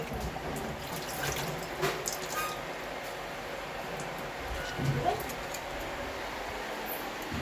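Running tap water at a kitchen sink while dishes are being washed, a soft steady flow with faint clinks and splashes at moderate distance.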